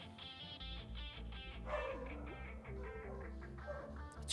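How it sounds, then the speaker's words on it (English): A dog gives a few short bow-wow barks and yips over a steady background of tonal music, the barks fairly close and repeated in a loose rhythm. "it's been a minute since Bentley's barked"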